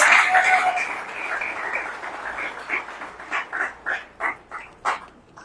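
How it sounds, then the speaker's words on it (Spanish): Church congregation applauding during a sermon, a burst of clapping that thins into a few loud, separate claps and cheers, fairly close. "Denle un aplauso al Señor"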